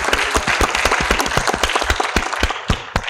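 Close, lively applause for a film's producers at a press conference, dense individual claps forming an uneven, continuous burst with no talk.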